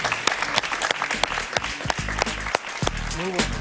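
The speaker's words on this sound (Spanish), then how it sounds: "Un aplauso para él, por favor." A television studio audience claps steadily for a talk-show guest, a dense, close round of applause with a host's voice speaking over it.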